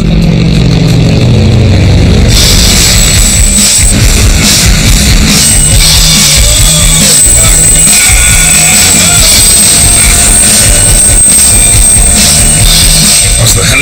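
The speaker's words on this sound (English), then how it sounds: "As the helicopter threw me about," An RAF helicopter in flight gives a loud, steady rotor and engine roar that fills the whole stretch, with a high whine coming in after the first couple of seconds.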